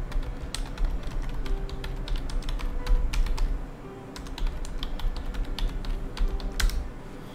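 A search query is typed on a computer keyboard in quick, uneven bursts of close, crisp key clicks, with a brief pause partway through, and no speech over it.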